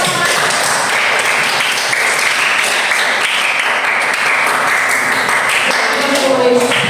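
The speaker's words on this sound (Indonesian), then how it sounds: "Oke, tepuk tangan untuk" A classroom of students clapping together during a teaching practice lesson, a steady burst of applause holding evenly throughout.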